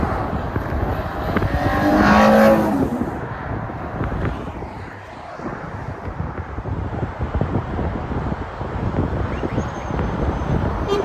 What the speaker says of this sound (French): Hop là, McLaren GT qui passe.